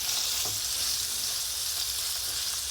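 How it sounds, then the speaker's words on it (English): Chicken breast sizzles steadily in a hot pan, a constant crackling hiss with no pauses and no voices. "We want to hear a sizzle."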